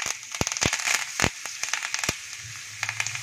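Curry leaves hitting hot oil in a tadka with mustard seeds, asafoetida, cumin and garlic paste, giving sharp irregular pops and crackles over a hissing sizzle, close and fairly loud.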